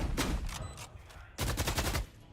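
Video game gunfire during a Batman match, sharp shots clustering into two quick bursts, the second one denser and louder, with a short lull between them.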